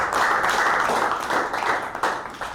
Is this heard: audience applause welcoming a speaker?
yes